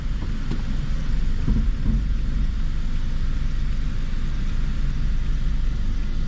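Inside a car making a three-point turn during a Florida driving test, a steady low engine and road rumble fills the cabin, with a few faint knocks early on and no talking.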